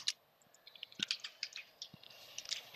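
Computer keyboard keys clicking softly at close range while commands are typed on a CentOS system, with a few sharper isolated presses standing out from the quiet tapping.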